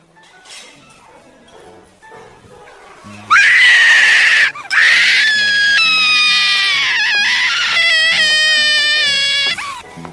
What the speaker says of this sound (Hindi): ये चिल्लाने की आवाज कुछ पहचानी लगी।